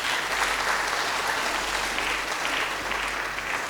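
Steady, dense applause from wedding guests fills the whole moment, a continuous wash of many hands clapping at even loudness with no talk over it.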